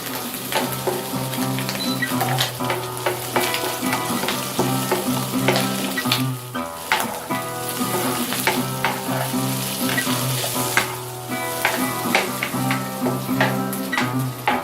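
Garlic sizzles and crackles steadily in a hot pan, with frequent clinks and scrapes of a fork stirring it through, continuous and fairly close.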